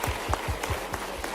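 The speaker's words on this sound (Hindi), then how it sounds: "ये जोरदार ताली बजाओ" Audience applause at a youth employment event, heard as a short burst of rhythmic clapping from a crowd, moderately loud and over within a second or so.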